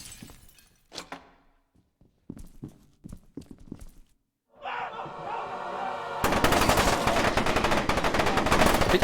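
Dual-wielded pistols fire in the shooter game F.E.A.R. 2, first as scattered sharp single shots with pauses, then swelling into sustained, loud rapid gunfire with heavy echoing impacts.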